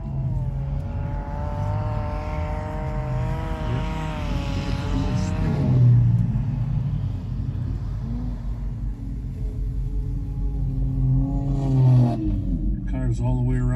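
Six-cylinder race cars on non-studded tires circle an ice track at Marinette, engines revving and rising in pitch as they accelerate past, with loud rumbling swells and a commentator talking over the noise.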